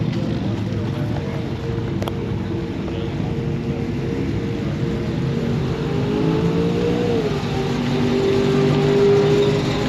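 A drag racing car builds engine noise with a steady rising drone at a distance, growing slightly louder toward the end over constant background rumble.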